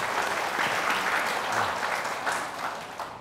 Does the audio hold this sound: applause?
yes